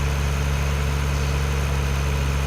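Tractor engine in the Farming Simulator video game with a realistic engine mod, straining while driving uphill; a loud, steady, low droning hum with strong constant harmonics, continuous and close throughout with no talk.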